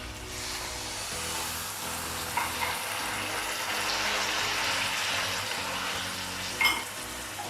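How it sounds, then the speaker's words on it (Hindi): Two cups of water go into a pan of frying chicken and chickpeas, giving a broad steady sizzle and hiss with a bubbling rush and a couple of short clinks, close by. "दो कप पानी डालेंगे।"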